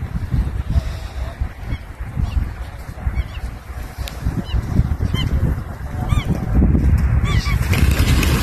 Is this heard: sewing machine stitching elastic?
no